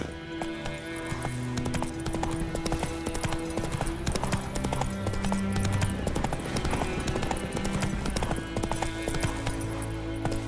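Steady clip-clop of a horse galloping in The Witcher video game, a continuous rhythmic hoofbeat running the full length over a layer of game music.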